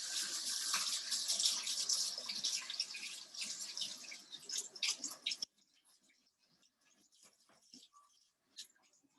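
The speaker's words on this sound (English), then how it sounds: "I'm gonna do a quick rinse on my hands" Tap water runs steadily while someone rinses charcoal off their hands, a close hiss with splashing for about five seconds before the flow stops abruptly, followed by a few faint drips and small handling sounds.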